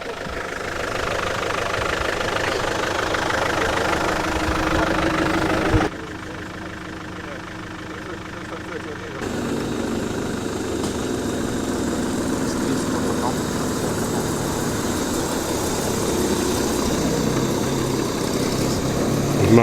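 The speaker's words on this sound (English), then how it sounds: "The sound you can hear is not an Austin 7, it is a very noisy Land Rover Defender." A very noisy Land Rover Defender idles in the paddock at a vintage car speed hillclimb, a continuous rough rumbling engine note with knocking vibration, steady and close, over background crowd and event noise.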